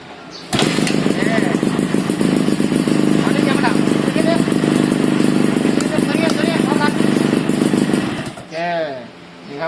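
Honda Nova Super motorcycle engine catching and running at a steady loud idle for most of the stretch, then cutting out near the end, with voices talking over it.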